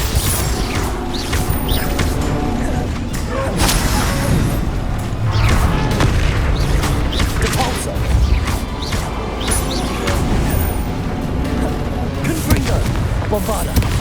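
Repeated Bombarda and Confringo spell blasts in Hogwarts Legacy, a dense string of booming impacts and crashes with mechanical rattles, steady and loud throughout, with a voice occasionally heard among the explosions.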